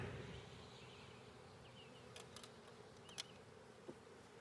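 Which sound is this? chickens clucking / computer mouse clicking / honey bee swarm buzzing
honey bee swarm buzzing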